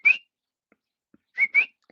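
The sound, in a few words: voice imitating coqui whistling call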